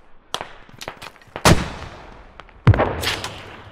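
Artillery shells land in the Squad video game, with two loud booming blasts that trail off into rumbling decay, preceded by a few sharper distant shots.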